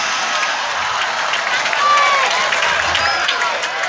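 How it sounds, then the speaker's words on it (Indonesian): Audience clapping at a comedic Sundanese sermon, a dense, steady wash of many hands that holds at an even level for several seconds, with crowd noise mixed in. "Tepuk tangan atuh sia"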